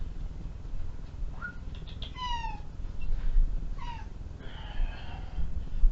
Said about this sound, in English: Why are you meowing? What are you meowing for?